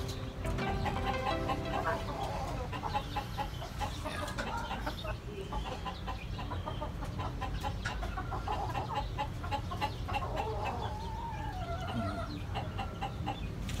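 A six-month-old Sweater Escolin line gamefowl hen clucking among other chickens in a farm yard, steady repeated clucks and calls over a constant low background.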